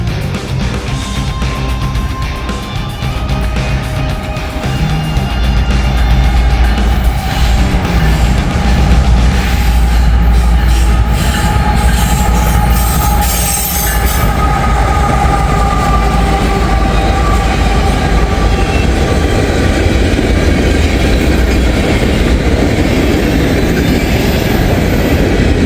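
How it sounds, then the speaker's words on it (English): A southbound train rolls past on track 2 in Glendale, Ohio, with a loud, close, steady rumble and rail clatter lasting the whole stretch. "First train we got southbound coming on track 2."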